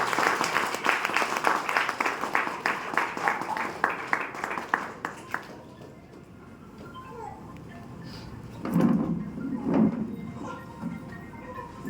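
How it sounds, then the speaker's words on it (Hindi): Audience at a Safe Shop direct selling training meeting in Chaibasa bursts into loud, steady clapping for about five seconds, then fades into room murmur with a few scattered claps and voices. "जोरदार ताली होनी चाहिए।"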